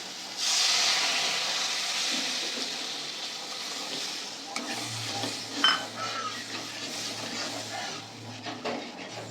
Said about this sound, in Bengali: মশলা থেকে ভালোই তেল ছাড়তে শুরু করে দিয়েছে। এই অবস্থায় আমি জল ঢেলে দেবো।